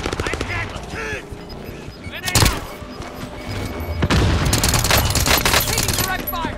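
Gunfire in the video game Call of Duty: a sharp loud burst of shots, then a longer sustained stretch of rapid fire with heavy thumps, with a voice in the background.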